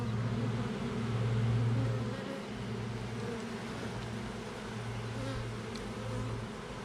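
A dense, steady hum of a honeybee swarm buzzing together, close and continuous, with slight swells in loudness and no voices.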